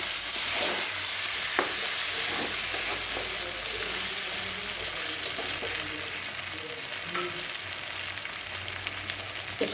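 Pieces of pointed gourd (potol) frying in hot oil, a loud, dense sizzle with crackles and occasional stirring scrapes, steady and close for the whole stretch.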